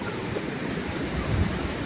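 Sea waves wash close by on a beach, a steady broadband roar of surf with a slight swell near the end, with no voices.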